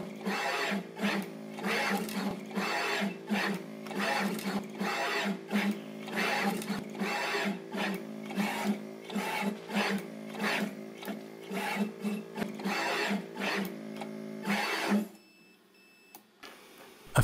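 A Charmhigh CHMT36VA pick-and-place machine places components on a PCB, making a fast, regular series of whirring mechanical strokes about twice a second. The strokes stop near the end, leaving quiet.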